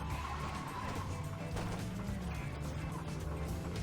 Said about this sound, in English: I can hear the taxi cab, something went out on it, a muffler.